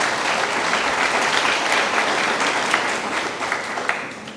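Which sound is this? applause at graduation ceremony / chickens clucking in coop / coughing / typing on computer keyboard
applause at graduation ceremony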